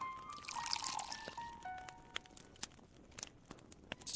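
Water pours into bread dough in the Dark Tales hidden-object game, a short splashy trickle followed by scattered light clicks and taps, faint and heard alone.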